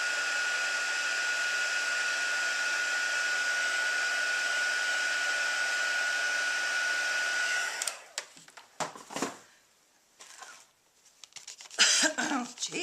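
Hair dryer drying crushed curry craft decoration, a steady close whir running for about eight seconds before cutting off, followed by scattered handling noises and a cough.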